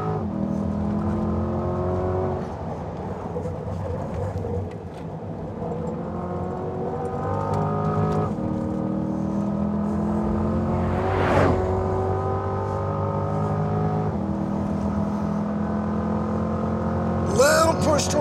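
A 2020 Chevrolet Corvette Stingray Z51 accelerates hard around a track on a hot lap, its engine note climbing through repeated gear pulls with rising and falling revs, heard loud from inside the car with brief tire or wind noise.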